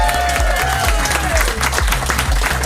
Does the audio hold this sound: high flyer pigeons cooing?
no